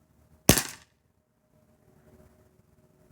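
A single sharp shot from a Bear River 4-inch revolver fired single action, a loud close crack with a brief decaying tail, then near silence.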